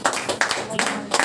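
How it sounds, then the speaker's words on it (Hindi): An audience claps during a Hindi church sermon, a few loose rhythmic claps in short bursts, fairly close and moderately loud. "तालियां बजा सकते हैं।"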